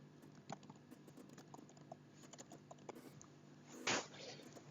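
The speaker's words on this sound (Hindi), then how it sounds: "हम इसमें अपना नाम टाइप करना सीखते हैं।" Keys tapped on a computer keyboard while a name is typed in a Microsoft Office program, a quiet, irregular run of soft clicks with one louder burst of keystrokes near the end.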